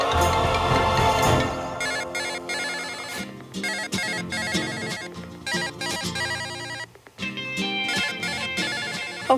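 A phone ringtone plays on and on without being picked up, a bright repeating electronic melody that loops loudly and almost without pause for several seconds.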